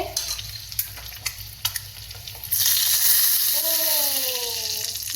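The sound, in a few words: egg frying in hot oil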